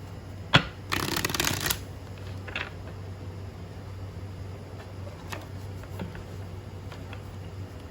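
Tarot cards being shuffled for a pick-a-card reading, with one loud riffle burst near the start and faint slaps and taps afterward over a steady low hum.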